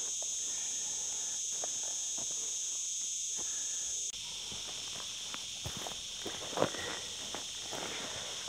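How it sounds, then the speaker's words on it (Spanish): A cicada sings outdoors in a natural landscape during macro photography, a steady high buzzing drone that carries on throughout, with faint rustling and soft steps underneath. "Como canta la chicharra"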